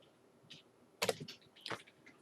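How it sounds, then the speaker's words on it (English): Short bursts of typing on a computer keyboard, a few quick clustered key clicks, close and fairly quiet, with no talking. "all I have to do is just type it like this"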